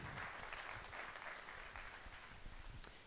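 A conference audience applauds after a session, a steady wash of clapping that stays fairly even and moderately distant for a few seconds.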